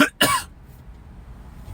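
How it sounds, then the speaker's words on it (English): A man gives two quick, sharp coughs up close, then the sound drops to quiet room noise. "I apologize for coughing."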